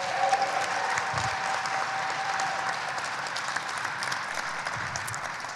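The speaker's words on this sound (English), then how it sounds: "I think we all need to applaud that." An audience applauds together at a local climate change presentation, a dense, even wash of clapping that holds steady throughout without speech.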